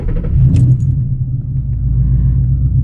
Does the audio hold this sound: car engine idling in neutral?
yes